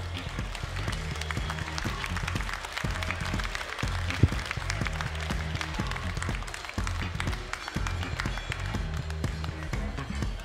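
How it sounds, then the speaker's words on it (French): Applause from a crowd at the prize ceremony of a Gascon cattle breed competition, dense clapping mixed with some thumps and scattered voices, continuing steadily throughout. "je pense que vous pouvez encore les applaudir très fort"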